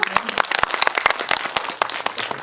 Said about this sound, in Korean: 저희 박수를 한번 여기서 드려야 될 것 같아요.